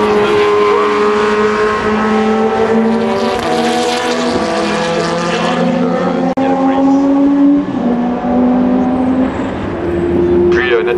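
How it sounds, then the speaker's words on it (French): Peugeot race cars lap the Le Mans circuit during the 24 Hours race, loud engines whining and shifting pitch as they pass close by, with a continuous roar under a commentator's talk. "Les trois Peugeot sont en train de parcourir le circuit voiture de tête"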